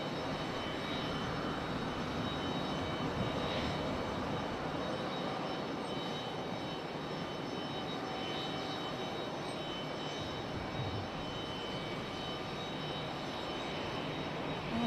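A Breeze Airways airliner's jet engines roar steadily and loudly at Raleigh-Durham International Airport, a continuous broadband rumble with a faint high whine holding evenly throughout, no voices over it.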